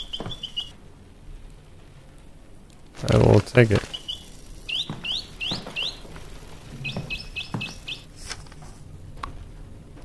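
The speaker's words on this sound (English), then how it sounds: "Mechanical bird." Mechanical bird in a video game chirping in short, bright repeated bursts of tinny tweets, set among other game sounds including a loud rustling clatter, with a voice speaking briefly.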